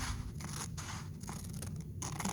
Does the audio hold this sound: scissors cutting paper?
yes